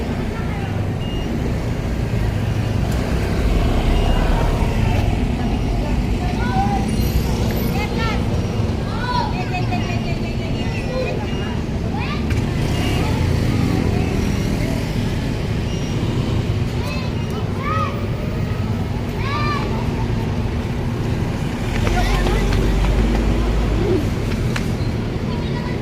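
Ride inside a motorized tricycle through Marikina streets, a constant loud engine drone and road rumble that fills the whole stretch, with traffic noise and people talking over it.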